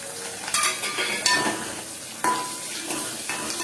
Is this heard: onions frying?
yes